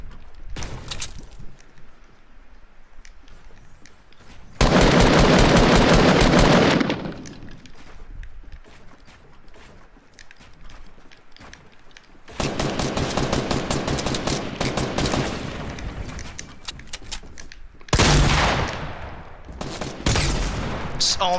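Assault rifle fire from a gray AR in a Fortnite build battle: three loud, sustained bursts of rapid shots separated by quieter stretches, with voices faintly present between them.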